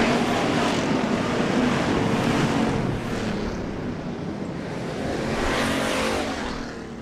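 Street stock race cars roar around the dirt oval at Casino Speedway, a loud, continuous engine drone that swells and fades as the pack passes close by, with no talk over it.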